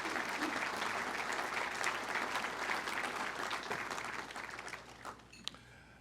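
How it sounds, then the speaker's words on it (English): A ballroom audience at a Greater Cincinnati Business Hall of Fame ceremony gives a round of applause for an honoree's family; steady clapping holds, then thins out and fades near the end with a few last claps. "So give his family another big round of applause tonight."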